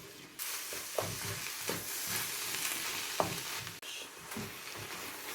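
Tuna stirred and fried on high heat in a pan for fried rice, giving a continuous loud sizzle broken by repeated spatula scrapes and knocks at an uneven rhythm, with no voices.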